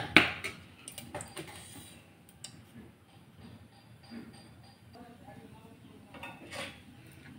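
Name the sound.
adding two spoonfuls of oil with a big spoon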